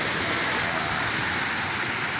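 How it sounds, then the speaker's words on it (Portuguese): Waterfall at Sítio Uirapuru, Recanto das Cachoeiras, in Baturité, Ceará: a loud, steady roar of rushing water, broad and unbroken, heard close up with no talk. "para apreciarmos as cachoeiras aqui do sítio Irapuru, Recanto das Cachoeiras"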